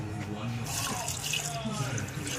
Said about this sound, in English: We're gonna rinse them real quick